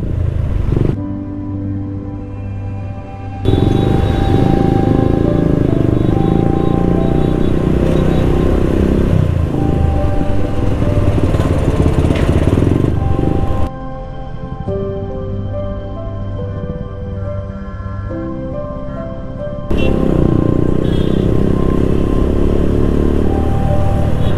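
A TVS Raider motorcycle ride on an open road, with a loud steady engine drone and rushing wind. The engine note shifts in level in several sections, with no voices.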